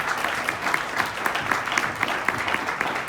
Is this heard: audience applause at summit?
yes